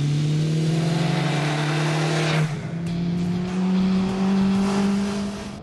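An MV Agusta Brutale 910R motorcycle engine drones loud and close with a strong steady pitch, dipping for a moment partway through before climbing again as the revs rise.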